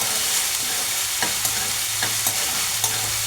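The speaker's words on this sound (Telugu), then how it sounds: "జింజర్ గార్లిక్ పేస్ట్ ఇదంతా 1 నిమిషము మనము వేయించాలి." Ginger garlic paste fries in hot oil for a gongura tomato curry, with a steady, close crackling sizzle and a few light stirring taps.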